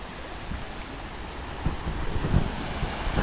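Strong current of a clean river at a bridge crossing in Carranglan, Nueva Ecija, rushing steadily as a broad, close wash of water, with wind buffeting the microphone and a few louder surges partway through.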